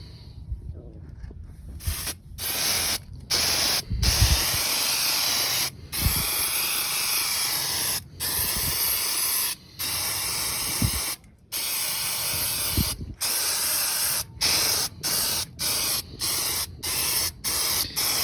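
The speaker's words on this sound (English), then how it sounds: "spray painted these red emblems" Spray can hissing in repeated short bursts as red vehicle emblems get a fourth coat of Plasti Dip for a 2023 Tacoma, close and loud with brief silent gaps between sprays.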